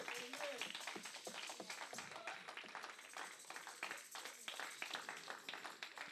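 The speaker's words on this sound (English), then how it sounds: "clap your hands for these men of God" Church congregation clapping hands during a sermon, dense continuous applause from many people, steady and somewhat distant, with voices faintly mixed in.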